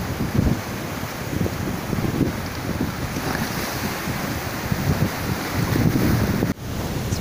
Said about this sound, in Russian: вот типичный балийский пляж